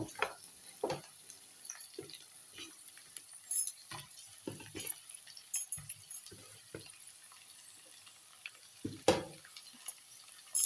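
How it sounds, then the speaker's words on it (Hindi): Tomatoes go into a pan of frying potatoes, bringing a faint steady sizzle with scattered scrapes, clinks and knocks of a spoon against the pan at irregular intervals. "अब आलू को फ्राई हो चुका है। अब इसमें टमाटर दे दूंगी, टोमेटो।"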